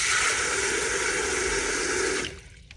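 Water runs steadily from a tap into a bowl at a sink, a loud, continuous rushing splash that stops abruptly near the end.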